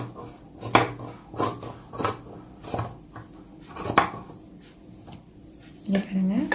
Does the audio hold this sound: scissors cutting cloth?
yes